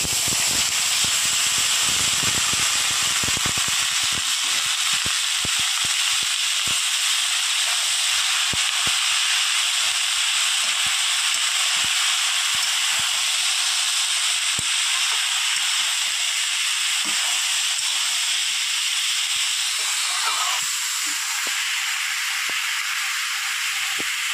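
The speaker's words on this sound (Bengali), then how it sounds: "এবার দিয়ে দেবো ফোড়নে লাউ, কেটে রাখা লাউ।" Chopped bottle gourd drops into a hot tempering of bay leaf, green and red chilies and whole cumin for a prawn dish, producing a loud, steady close-up steamy hiss that holds for a long stretch with light crackles, no talk.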